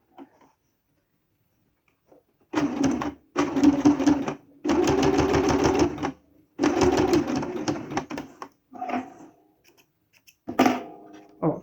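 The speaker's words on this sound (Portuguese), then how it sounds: "Vamos costurar isso aqui, ó." A domestic sewing machine stitching bias binding in four close, steady runs separated by short stops, loud and mechanical, followed by a few softer scattered clicks and handling noises.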